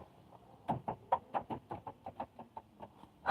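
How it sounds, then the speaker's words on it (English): About fifteen birds perched on a car roof give a quick run of short, clucking chirps, around a dozen evenly spaced calls, fairly near and moderately loud against a quiet background. "there's like 15 birds on top of my car."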